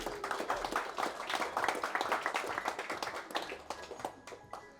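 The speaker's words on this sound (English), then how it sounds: "Big round of applause for you all to come here tonight" Guests at a 2019 Christmas party in London break into a big round of applause, with dense, lively clapping from a crowd nearby that holds for several seconds and then tapers slightly.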